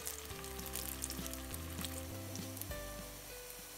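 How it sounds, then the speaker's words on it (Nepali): Six veg kababs fry in hot oil in a pan, giving a continuous soft sizzle. Steady tonal hum and music-like tones sit over the frying throughout. "तेल तातिसकेको छ, अब यसमा हामी फ्राई गर्छौँ।"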